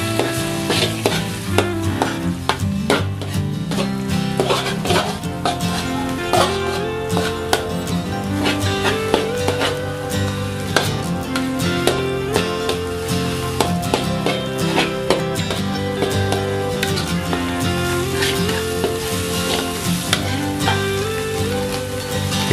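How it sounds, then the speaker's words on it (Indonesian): Bean sprouts and egg fry in a hot pan, a steady close sizzle running throughout with repeated scraping and clinking strokes of a spatula as the mixture is stirred. "Lalu kemudian kacau-kacau seperti ini."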